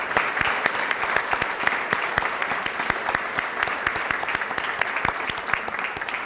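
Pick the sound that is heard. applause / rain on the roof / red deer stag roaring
applause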